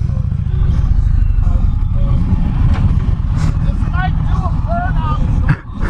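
An Indian Challenger motorcycle engine under very light throttle while riding, a loud, steady low rumble with rising engine tones and wind, heard up close under a rider's voice talking throughout.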